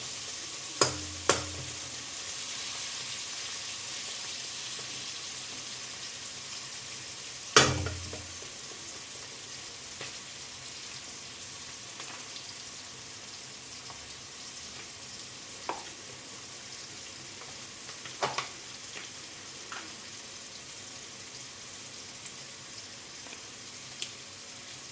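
Whole spices, including cinnamon, sizzle steadily in hot oil for chicken rezala, a constant close frying hiss broken by a few sharp clinks and taps of utensils on the pan.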